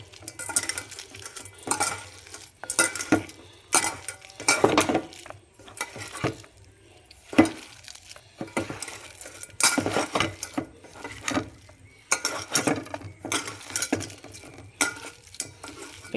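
Crab meat being mixed and kneaded with masala and salt by hand in a bowl, irregular wet squishing and scraping in repeated bursts, close and fairly loud, with no talking.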